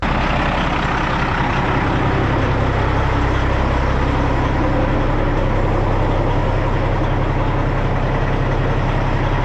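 A 1978 International Transtar truck's engine runs steadily, a loud, continuous low diesel rumble with a constant drone throughout and no talking.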